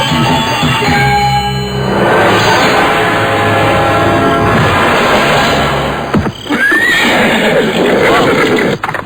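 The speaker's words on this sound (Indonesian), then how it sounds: "Aku mendengar derap kuda menuju kemari." A horse whinnies loudly amid a busy outdoor scene with rumbling, galloping hooves and clatter, the commotion continuous and close throughout, in a radio drama.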